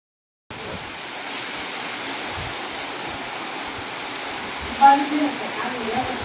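Steady rain pours outdoors during a monsoon downpour, a close, even hiss that holds throughout with one brief louder bump near the end.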